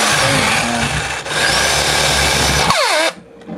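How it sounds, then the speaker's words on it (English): A power drill grinds loudly and steadily through a baseball bat before cutting off abruptly and spinning down near the end. "Basically hard on your drill, as you can see."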